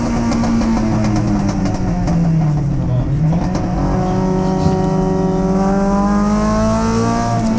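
MG racing cars, including a Group S MGB, lapping a circuit at an MG and Triumph race meeting, with loud sustained engines that shift in pitch as they pass, under commentary.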